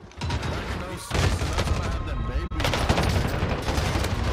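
Dense, loud gunfire rattles in a shooter video game, with shotgun blasts among continuous overlapping shots that barely pause.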